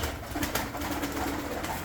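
A racing pigeon cooing softly at an auction, a faint low coo under steady background hum, with no talk.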